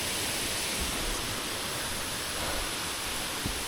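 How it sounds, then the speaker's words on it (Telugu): Constant roaring wash of a waterfall, a broad steady rush with no pauses, heard from some distance. "ఇదే వాటర్ ఫాల్స్"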